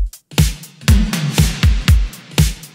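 A punchy 80s synthpop drum beat with full kit: deep kicks and bright snare hits in a steady groove with a bass line underneath, loud and up close, no voices.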